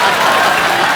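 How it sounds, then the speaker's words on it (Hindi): A studio audience on The Kapil Sharma Show claps loudly in a brief, dense burst of steady applause. "ताली बजाओ"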